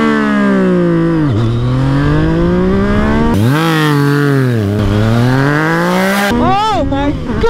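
A Yamaha MT-09 motorcycle with a full exhaust and flashed ECU accelerates hard off the line, its loud engine note rising through several gear pulls with sharp shifts between, recorded close from the rider's position.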